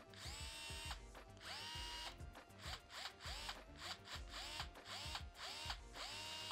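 A 3.6V cylindrical cordless screwdriver in black with a quick-release chuck runs in repeated short bursts, each spin-up whirring and winding down, fairly quiet and close with brief pauses between runs.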